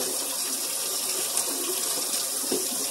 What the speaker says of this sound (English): Make sure you put some hot water in that mixture so the baking soda dissolves.